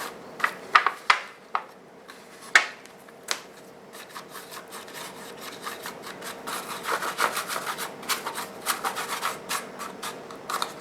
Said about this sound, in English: put this antiquing on this loaf pan